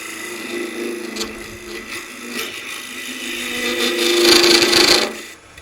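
Close scraping and hissing of a woodturning tool cutting into spinning wood on a lathe while hollowing a snowman box, uneven in intensity and swelling louder near the end before cutting off.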